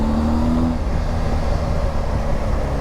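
A BMW R1250 GS Adventure motorbike engine accelerates on a country road, giving a steady, loud drone with a rising whine in the opening moment.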